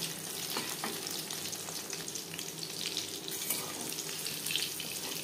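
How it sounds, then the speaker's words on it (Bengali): Prawn chops frying in hot oil over a flame, a steady, even sizzle and crackle that holds constant at moderate loudness with no voices. "একটা সাইড ভাজা হয়ে গেলে অপর সাইডটা উল্টে দেবো।"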